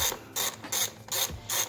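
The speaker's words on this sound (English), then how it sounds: "now we're gonna start removing these bolts" A ratchet loosening the valve cover bolts on a BMW E46 engine, giving four close, crisp bursts of rapid clicking separated by short pauses.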